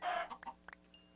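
Chickens cluck in a Minecraft game, a few short, close clucks in quick succession with a faint tone trailing after.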